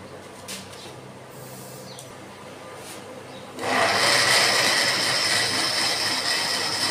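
An electric blender grinds falsa berries with sugar, kicking in abruptly after a few seconds of quiet room noise and then holding a loud, steady whirring roar.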